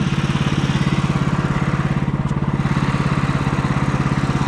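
A chainsaw runs steadily nearby in a wooded cutting area, its engine holding a constant, loud, even buzz with a fast rhythmic pulse throughout.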